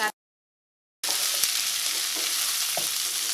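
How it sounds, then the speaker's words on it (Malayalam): Onion and capsicum fry in oil for chili chicken, a steady, close, bright sizzle that starts abruptly after a moment of silence and continues evenly, with a couple of faint utensil taps. "ഇപ്പോൾ സവോളയും ക്യാപ്സിക്കം ഒന്ന് നന്നായിട്ടൊന്ന് ചൂടായിട്ടുണ്ട്."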